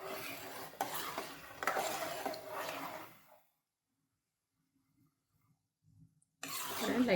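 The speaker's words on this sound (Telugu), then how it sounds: "మినప్పప్పు, అలానే 1 స్పూన్ ఆవాలు వేసుకొని ఫ్రై చేసుకుందాం." Urad dal and mustard seeds fry in oil for a tomato pickle: close crackling sizzle and stirring scrapes for about three seconds, then near silence, then the frying noise returns abruptly at the end.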